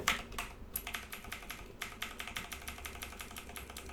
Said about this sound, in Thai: อาจจะได้ยินเสียงคีย์บอร์ดผม